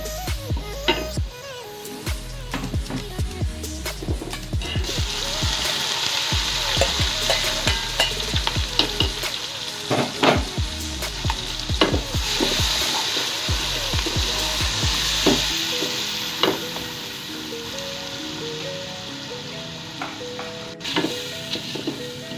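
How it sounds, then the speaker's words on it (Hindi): Spice masala for beef biryani fries and sizzles in a pot, with steady loud crackle broken by repeated scraping stirs, then settling to a quieter sizzle near the end; no one speaks. "अब हम मसाले को थोड़ी देर के लिए भूनेंगे ताकि हमारे टमाटर सॉफ्ट हो जाए।"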